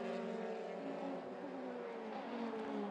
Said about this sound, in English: Troitsky tries to get on the throttle a fraction of a second earlier than Matheus Iorio as they come down the Wellington Straight